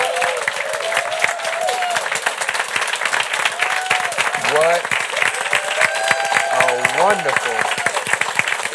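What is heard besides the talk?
audience applause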